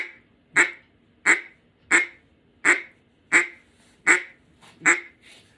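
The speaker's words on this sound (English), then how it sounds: "I'm only going to give them something to listen to, which is little short quacks." A small-bore mallard duck call is blown in a series of eight short, evenly spaced quacks, each a crisp burst standing alone against near silence.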